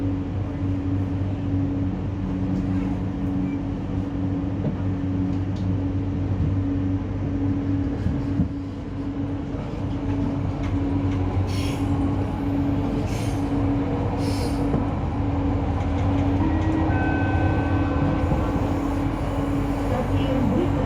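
An LRT Jabodebek light rail train runs on the Bekasi Line. A continuous rumble and steady hum fill the clip, with brief high wheel squeals near the end.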